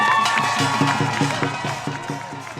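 A rally crowd cheers after a speech, loud and close, with whoops and shouts that fade gradually, and rhythmic chanting or clapping pulses running underneath.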